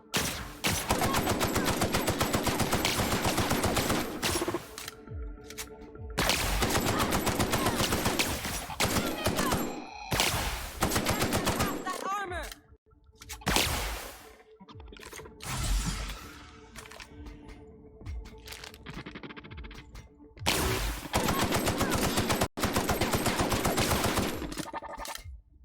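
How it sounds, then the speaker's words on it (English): Assault rifle firing in The Outer Worlds, heard as long loud sustained bursts of rapid automatic fire, broken by gaps holding quieter sporadic shots and game sounds. "let's switch to the assault rifle"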